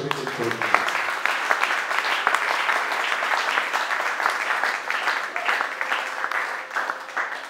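A church congregation applauds, sustained dense clapping that swells and continues throughout, fairly distant and reverberant, with some voices mixed in.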